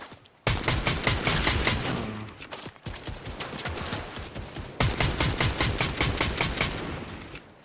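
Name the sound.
gunfire from a gun with heavy recoil in a video game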